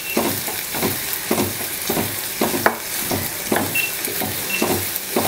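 Onions frying in a pan for a dosa filling, continuous sizzle broken by regular scraping strokes of a spatula, close and steady with no talking.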